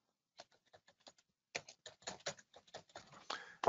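Computer keyboard typing, sparse soft keystrokes at first, then a quicker, denser run of close, crisp clicks.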